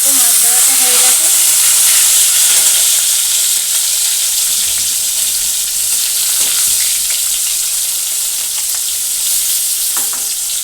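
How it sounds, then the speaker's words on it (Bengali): Hilsa fish pieces and fish heads fry in hot oil in a pan, giving a loud, steady sizzle and hiss that carries on with no break and no talking. "মাছ তো আমার ভাজা হয়ে গেছে, মাথাগুলো ভাজা হচ্ছে, আর মাথাটা ভাজা হচ্ছে।"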